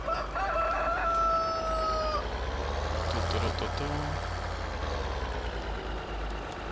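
A rooster in Farming Simulator 2013 crows in a drawn-out call against a steady low engine rumble, followed by a couple of short beeping tones.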